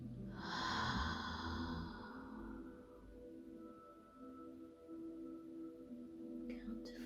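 A single slow, audible breath drawn in and released during a guided breathing exercise, close and quiet, followed by a long low exhale fading into a soft, still room.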